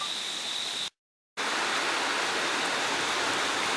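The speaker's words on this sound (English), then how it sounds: "Rain is starting to pick up a bit more." Heavy rain during Hurricane Harvey in Houston, a steady broadband hiss of downpour cut by a short silent gap, then resuming just as dense and even.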